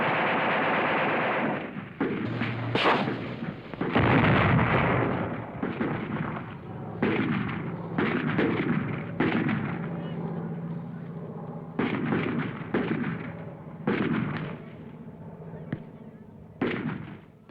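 Battlefield gunfire in the Vietnam War: repeated bursts of heavy fire and blasts come in clusters with short gaps, loud and close, over a steady rumbling background.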